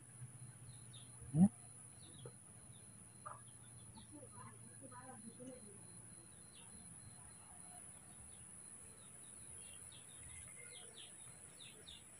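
Chickens cluck and birds chirp intermittently at a distance, with a single sharp knock early on and a steady background hum.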